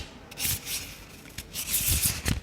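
Tarot cards are shuffled by hand, giving soft papery rubbing and quick riffling bursts in short uneven strokes, close and fairly quiet, with no talking.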